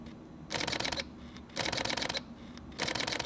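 Fujifilm X-Pro2 mirrorless camera shutter firing in continuous high burst mode: three rapid bursts of crisp mechanical clicks, each about half a second long, close and fairly quiet against low room hiss.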